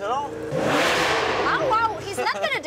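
An Italian sports car accelerates hard, with a loud rising engine roar that peaks early and then fades as people begin talking over it.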